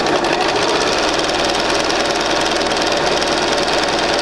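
A sewing machine stitches quilt fabric with a fast, continuous mechanical whir and rapid needle chatter, loud and close throughout.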